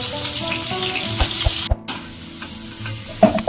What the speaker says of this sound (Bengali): আলুগুলো আমি এখানে নাড়াচাড়া করে ভেজে নেব।